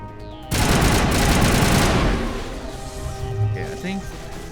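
Automatic gunfire from the video game Mass Effect opens as a loud, dense burst lasting about a second and a half, then fades into a rumbling tail with scattered game effects.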